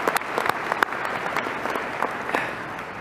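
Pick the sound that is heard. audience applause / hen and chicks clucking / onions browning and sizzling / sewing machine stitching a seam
audience applause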